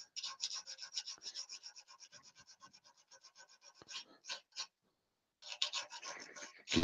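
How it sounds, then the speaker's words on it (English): Sandpaper rubbing the edges of a small turned wooden mouse, giving a rapid run of close, raspy back-and-forth strokes, a brief pause, then another burst of scratchy sanding. "and then the rest of this, we'll get it with the sandpaper,"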